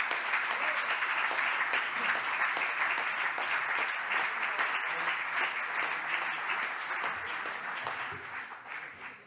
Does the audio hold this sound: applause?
yes